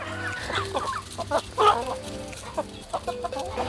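Chickens clucking on a farm, close and lively, with overlapping short clucks and squawks in a busy, irregular chorus.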